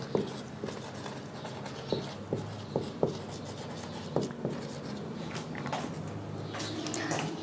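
Chalk or pen scratching on a surface during a physics lesson, a series of short taps and strokes at an irregular pace, faint against steady background noise with no talk.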